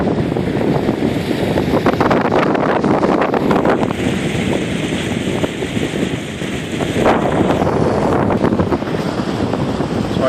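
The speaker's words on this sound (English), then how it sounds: "it's windy out here" Strong, gusty wind batters the microphone on an ocean beach after Hurricane Matthew, a loud continuous roar with surf washing underneath and no voices.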